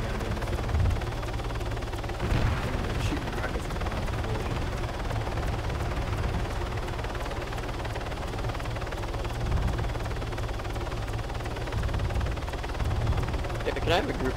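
Steady low rotor drone of a CH-49 Mohawk transport helicopter in Arma 3, a continuous mechanical hum throughout with occasional faint clicks and distant pops layered over it.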